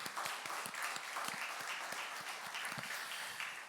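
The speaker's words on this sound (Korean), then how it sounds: "하나님께 감사의 박수를 한번 힘차게 올려드렸으면 좋겠습니다" Korean church congregation applauding in thanks at a Sunday morning Thanksgiving service, dense, steady clapping from many hands filling the room at a moderate level, with no voices over it.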